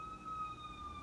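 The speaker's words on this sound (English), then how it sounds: "excuse the sirens" A wailing emergency siren from the street drifts in at a distance, a steady high tone holding through the whole stretch over low rumbling background noise, faint and continuous.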